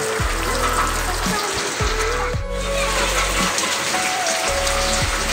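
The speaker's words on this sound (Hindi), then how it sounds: "देखो सांग मैंने वर्षा हो" Heavy rain pours steadily in a village, a dense hiss of drops on surfaces with a low rumbling hum running underneath throughout.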